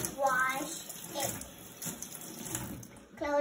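A kitchen tap runs cold water during washing, a steady soft rush at moderate distance, with brief voice sounds and clinks over it.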